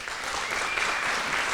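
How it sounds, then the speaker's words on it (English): An audience gives a round of applause at a storytelling night, dense sustained clapping from many hands filling the whole moment without a break. "So I think we need to give him a round of applause as well."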